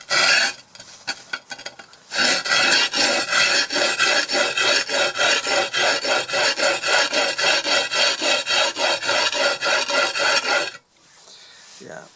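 A chisel or plane blade being rubbed back and forth on an 80 grit sharpening stone, dry honing: loud, close rasping strokes in a steady rhythm of roughly two per second, lasting about nine seconds before stopping.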